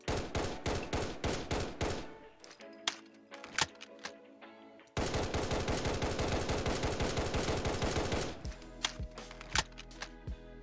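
Mark 12 SPR rifle firing in Fallout 4, bursts of rapid, loud, sharp shots in fast rhythmic strings, broken by a few sparse single shots and mechanical handling clicks, with no talk.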